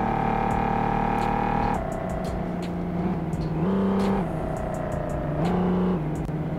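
A Mercedes G-Class engine revs hard in the City Car Driving game, played with a steering wheel, as a loud steady drone that steps up and down in pitch with repeated gear changes and no voices.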